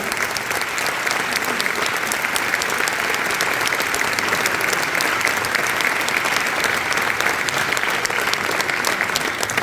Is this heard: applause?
yes